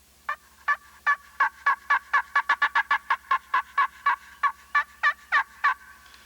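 Rapid series of sharp, bright cackling yelps played on a slate or glass turkey call, imitating a hen's fly-down cackle. About twenty close, loud notes speed up in the middle, then slow and trail off.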